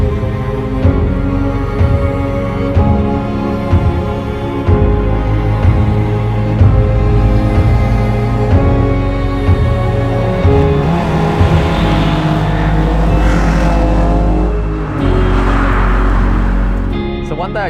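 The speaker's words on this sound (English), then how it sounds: "You can just hear the quad throttle bodies just sucking in all the air" Toyota AE86 engine fitted with quad throttle bodies, loud and close, a steady rasping intake roar with rises and falls in revs throughout, no voices over it.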